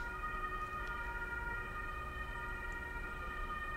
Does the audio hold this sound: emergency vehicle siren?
yes